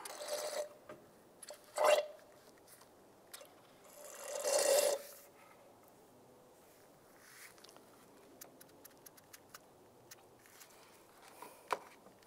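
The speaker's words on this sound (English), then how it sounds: "Just using a fluid transfer pump. Just suck the fluid out." A hand fluid transfer pump draws fluid from the reservoir of a 1999-2005 Volkswagen Jetta, making two quiet rasping, gurgling strokes followed by faint handling noises nearby.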